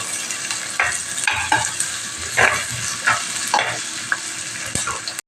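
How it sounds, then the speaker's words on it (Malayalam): Sliced onion and green chilies sautéing in oil for a spicy fish curry, a close crackling sizzle punctuated by frequent scraping stirs and knocks of a spoon against the pan. "നമുക്ക് സവാള ഇട്ട് കൊടുക്കാം സവാളയും പച്ചമുളകും കൂടി വഴന്ന് വരുമ്പോൾ"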